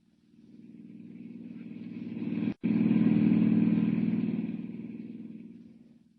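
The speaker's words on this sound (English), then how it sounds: "Hiring a car, Clark Kent heads out at once on the dusty road to San Miguel, 50 miles away." Car driving along a dusty road for a radio drama effect: an engine hum swelling up, a short break, then rising again and fading away, with no voices.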